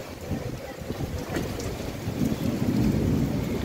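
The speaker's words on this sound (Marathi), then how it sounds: "आता बघू शकते जोशमध्ये पाऊस" Heavy rain pours steadily during a thunderstorm at a Ganpati immersion, a dense, continuous wash that swells slightly louder toward the end, with a low rumble beneath and no voices.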